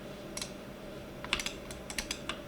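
Computer keyboard keys tapped in a quick irregular run of sharp clicks, some in clusters and one press louder than the rest, over a steady low hum with no voices.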